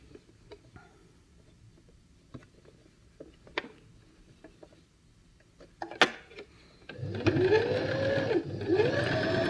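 A sewing machine stitches a doll's tunic, a dense steady whirring run arriving in the last few seconds after quieter scattered clicks and handling of fabric.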